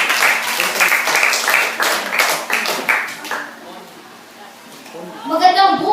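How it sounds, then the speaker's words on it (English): Applause from a school class greeting the moderator of a class debate on gadgets, dense clapping for about three seconds that fades into a quieter room before a voice starts speaking. "A round of applause,"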